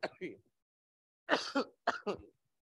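A man coughs and clears his throat in a short burst near the start, then after a pause there are two more rough clusters of coughing, close and alone in a quiet room.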